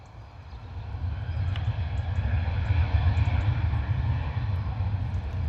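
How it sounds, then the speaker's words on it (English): An EasyJet jet airliner powers up for takeoff at Bristol Airport on a crosswind day, a deep engine rumble that builds from quieter to a loud, sustained roar and holds steady, with no talk. "EasyJet on the move. Power set."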